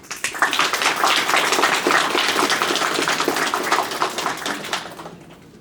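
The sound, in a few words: applause for the groom at a wedding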